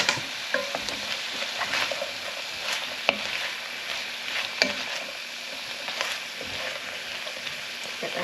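Sliced garlic sizzles steadily in a hot pan, a soft continuous fry with occasional crackles and a few stirring clinks, fairly quiet and with no talking.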